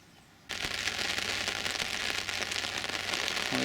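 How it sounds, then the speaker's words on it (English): Heavy persistent rain pours down outdoors on an October afternoon at a riverbank, starting abruptly from a quiet background into a dense, loud, steady hiss of drops pattering on surfaces close by. "heavy and persistent rain was forecast for this afternoon, and they weren't joking"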